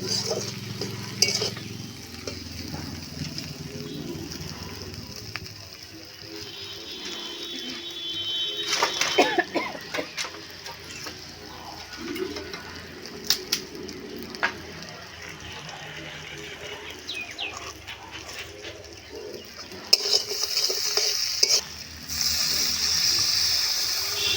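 Catfish curry cooks in oil in a pot over a village mud oven, with soft sizzling, stirring scrapes and clinks, and a splash as water goes in; the sounds are fairly quiet, and someone talks intermittently.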